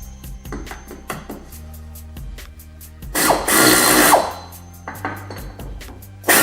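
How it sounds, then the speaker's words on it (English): An air ratchet removes bolts from a car seat, making rapid, close ratcheting clicks with a louder, sustained pneumatic buzz in the middle and another short burst at the end. "When removing seats, it's typically easiest to do with an air ratchet."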